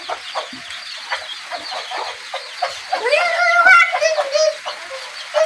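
Hens on a small backyard flock where one brooding hen has hatched chicks, clucking in short repeated calls close by, with a louder burst of overlapping clucks and squawks partway through.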